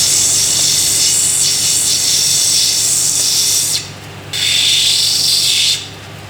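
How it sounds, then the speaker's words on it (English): Excess material is ground off the back of a rough agate stone on a lapidary wheel: a loud, continuous hissing grind over a motor hum, briefly dropping away twice as the stone is lifted from the wheel. "I'm just going to get rid of the back material, the excess material, which will be easier to grind it"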